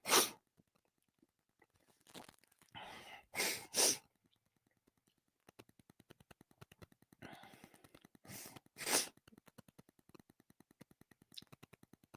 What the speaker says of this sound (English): Sneezes always come in multiples.